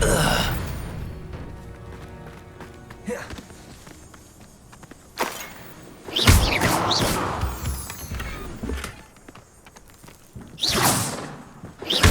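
Protego and Expelliarmus spell effects in Hogwarts Legacy burst out as sharp magical whooshes and impact crackles, a few separate bursts over ambient game sound, with a voice calling out between them.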